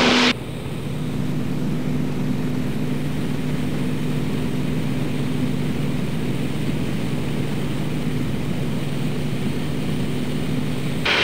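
Aerobatic airplane engine holding a steady loud drone with a strong low hum through a big lazy barrel roll in flight near Carnation, continuous with no talk.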